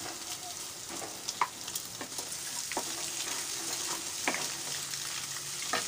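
Sliced onions and green chillies sizzle and crackle in hot oil while being lightly fried for egg fried rice, a steady close hiss broken by stirring scrapes and occasional sharp pops.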